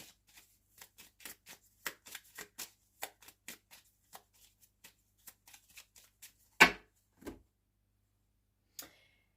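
Tarot cards being shuffled and cut, a run of soft quick flicks and taps in uneven rhythm, then a sharper slap as the deck is cut and a last faint tap, close and otherwise quiet.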